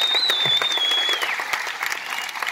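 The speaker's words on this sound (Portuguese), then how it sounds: "quero uma grande salva de palmas a todas as pessoas que estão a trabalhar nesta festa" Festival crowd claps steadily, dense applause from a sizable outdoor audience with a thin whistle rising over it early on.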